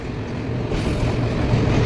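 A train pulls into a busy station platform, its loud steady rumble of wheels and carriages building throughout, with a faint high squeal of wheels on rails.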